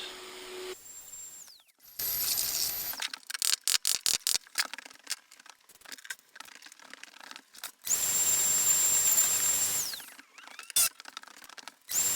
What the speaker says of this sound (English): This made it easy to swing the router around and shave off the peak of this ridge